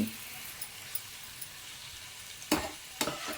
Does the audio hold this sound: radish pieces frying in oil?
yes